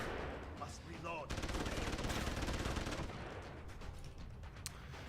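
Deus Ex: Human Revolution gunfire, a loud dense burst of rapid shots lasting a couple of seconds, then scattered quieter shots and game noise.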